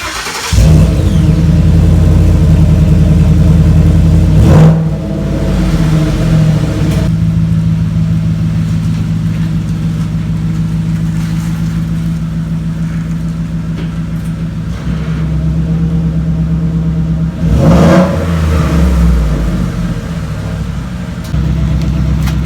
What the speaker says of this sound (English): The first cold start with no muffler at all, not even the straight pipe.